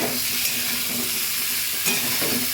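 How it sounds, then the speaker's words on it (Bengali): Spice masala sizzling and frying in oil in a pan for a ridge gourd curry, a steady close hiss with the spoon stirring it throughout and a brief louder burst near the end. "মশলা পুরো কষানো হয়ে গেছে, ভারী চমৎকার গন্ধ বেরোচ্ছে, এইদিকে সব তেল ছাড়া শুরু করে দিয়েছে"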